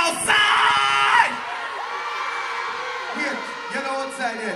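A morning outdoor crowd at a Jamaican music event screams and whoops loudly at first, then the cheering fades under continued shouting and talk over a PA.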